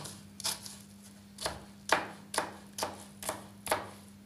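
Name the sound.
chopping onion into small dice with knife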